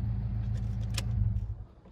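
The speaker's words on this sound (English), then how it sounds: "let me shut off the car for a moment" A parked car's engine idles as a steady low rumble, then cuts off near the end, the drone dropping away to near quiet; set outdoors in the Big Bear area during monsoon thunderstorm weather.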